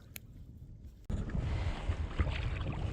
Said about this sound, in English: we're still paddling